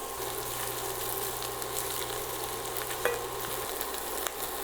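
Sliced shallots fry in oil in a pan, giving a steady, soft sizzle with light stirring and a couple of faint utensil clicks, close and even, with no voices over it.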